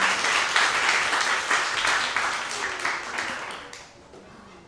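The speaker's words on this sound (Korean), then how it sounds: "박수 한번 해주시기 바랍니다" A church congregation claps in a steady round of applause that holds for several seconds, then fades out toward the end.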